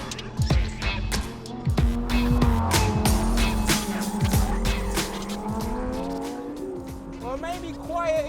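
A Lamborghini Huracan STO's engine screams close and loud through rising and falling revs, with tires squealing and skidding over a busy, continuous roar, and some voices faintly under it.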